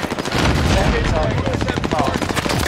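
Rapid automatic gunshots in Call of Duty Warzone Rebirth duos, a loud, dense stream of fire with no gaps, sounding close and continuous throughout.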